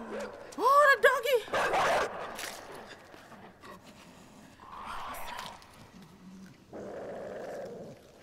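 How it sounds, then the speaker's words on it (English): A dog in the side-scrolling video game INSIDE growls and lets out sharp barks and yips in loud bursts, with quieter stretches of game noise in between. "Oh, the doggy!"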